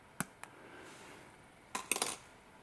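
Jewelry wires being trimmed for a wire-wrapped cabochon pendant, two sharp metallic snips followed by a quick cluster of small clinks from cut wire pieces, faint and close.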